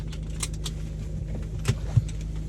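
A car idles with a steady low engine rumble as it starts to pull away, with a couple of soft thumps and a light jangle near the end.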